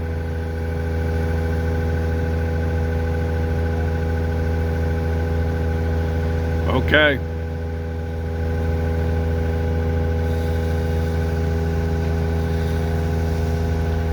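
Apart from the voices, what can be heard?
vacuum truck engine idling in the background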